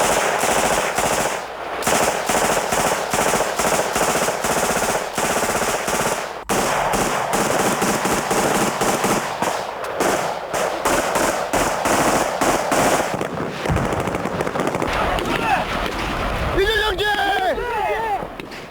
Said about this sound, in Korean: UDT 실대원의 자동 소총은 분당 200발을 발사한다.